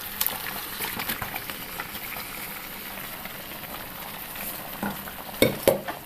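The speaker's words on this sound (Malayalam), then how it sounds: "മട്ടൺ വെന്തിട്ടുണ്ട്. അതും കൂടെ ഈ അരപ്പിലേക്ക് ചേർക്കാം." Cooked mutton stirred into a thick biryani masala paste in a pot, giving soft continuous scraping and a low sizzle, quiet and close, with a couple of sharper scrapes near the end.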